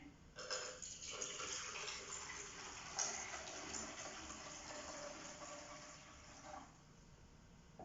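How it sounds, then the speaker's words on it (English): Water is poured from a container into a bowl, a steady faint splashing gush for about six seconds that tapers off near the end. "So you need a bowl and some water. We're going to pour it in."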